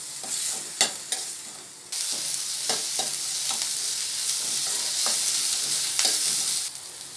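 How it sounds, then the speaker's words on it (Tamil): Onions sauté in oil in a pan for a hotel-style chutney. A steady close-up sizzle runs throughout, broken by repeated scraping stirs and a few sharp clinks of a spoon against the pan. "வெங்காயத்தை சேர்த்துட்டு இந்த எண்ணெயிலே வெங்காயம் வதங்கி வரட்டும்."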